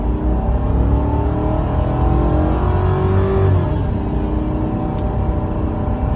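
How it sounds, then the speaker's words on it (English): A 2011 Ford Police Interceptor drives along with its engine hum steady, then rising in pitch as the transmission shifts around the middle, the drone continuing loud and close inside the car with no talk. "Tranny shifted smooth."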